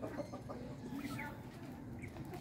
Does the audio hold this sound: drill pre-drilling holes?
no